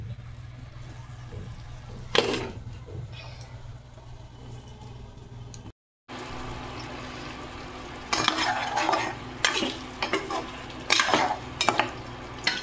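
Chicken pieces cooking in a pan, a low steady sizzle under scraping and clinking of a utensil against the pan, with bursts of busier stirring noise later on.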